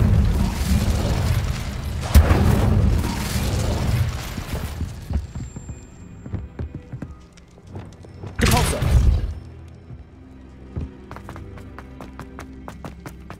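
Incendio fire spell cast in the Hogwarts Legacy video game, a burst of booming, roaring flame that swells twice with thuds and clatter in between, with scattered taps and small impacts.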